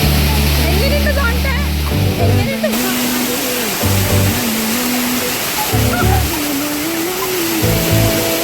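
Areekal waterfall near Kochi roars as a loud, continuous wash of rushing water, with people talking and singing-like voices over it throughout.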